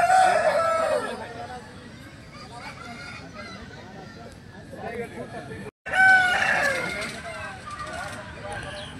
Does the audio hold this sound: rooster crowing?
yes